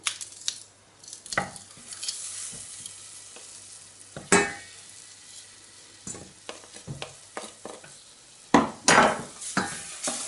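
Flour and crushed garlic being stirred and toasted in a pan for a creamy mushroom soup, a quiet sizzle under irregular scraping strokes and a few louder clatters of the utensil, close by with no speech.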